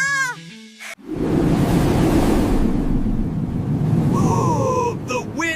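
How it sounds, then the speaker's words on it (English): Animated high-speed fan blasting a room, heard as a loud, steady roar of rushing wind after a short burst of voices at the start, holding strong for several seconds before easing slightly near the end. "The high-speed fan activated!"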